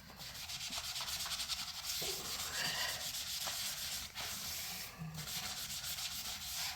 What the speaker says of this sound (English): So let's take one of these that's really bad and give it a scrub.